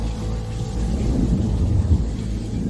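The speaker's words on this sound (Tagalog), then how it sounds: "nagising siya dahil sa malakas na kulog" Loud thunder rumbles low and continuous for a few seconds, with a rain-like wash over it and no talking.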